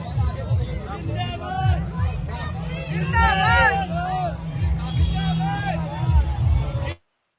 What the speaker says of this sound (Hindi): ये भीड़ जो आप देख रहे थे, ये प्रियंका गांधी के रोड शो नांगलोई जाट की भीड़ थी